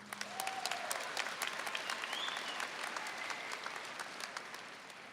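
A graduating high school class applauds itself at a commencement ceremony, a sustained, even spread of many hands clapping at moderate distance, with faint crowd murmur beneath.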